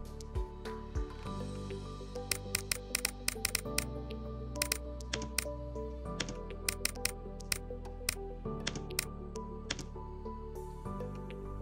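Fast bursts of keystrokes on a computer keyboard while placing option trades, sharp clicks in quick clusters over a steady, fairly loud background hum, with no talking.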